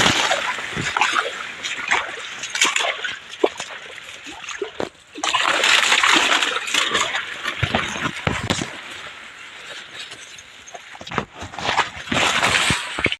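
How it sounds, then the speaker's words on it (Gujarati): Borewell water gushes and splashes continuously into a farm field outdoors, a steady churning flow with brief dips and swells, with faint voices now and then. "તો મિત્રો અહીંયા પાણી ચાલુ છે જોઈ રહ્યા છો તો અહીંયાથી પાણી જઈ રહ્યું છે ખેતરમાં"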